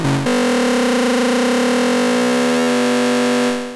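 Dirty, heavily modulated synth lead from a Kobol Expander, a loud buzzing sustained tone that slides in pitch near the start and again partway through, then fades out at the end.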